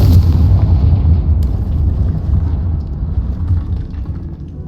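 The Confringo spell in Hogwarts Legacy sets off a deep, loud explosion whose heavy rumbling boom slowly fades.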